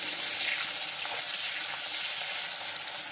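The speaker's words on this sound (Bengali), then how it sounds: "আর এখানে আলু বেগুন ভাজতে বসিয়ে দিয়েছি, কালো জিরে আর মেথি ফোড়ন দিয়ে দিয়েছি।" Potato and eggplant frying in a pan with a tempering of black cumin and fenugreek, a steady close sizzle with faint stirring and a brief watery touch, no talking.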